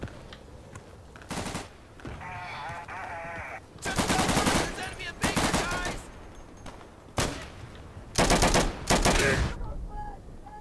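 Bursts of gunfire in the World War II shooter Day of Infamy, loud and close, coming in repeated rapid volleys separated by short pauses, with a voice shouting between shots.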